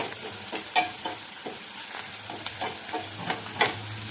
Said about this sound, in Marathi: हे पण परतून घेते